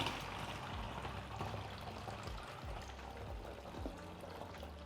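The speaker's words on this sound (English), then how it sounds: "So I'm gonna pour this back." Liquid film developer chemical poured back into its container during home colour film processing, a continuous close pouring and gurgling stream lasting several seconds, with no talking.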